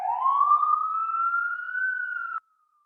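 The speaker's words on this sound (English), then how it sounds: "And with that siren" A police siren wailing outside, one long rising tone that is clear and moderately loud, holding steady before cutting off abruptly, with no talk over it.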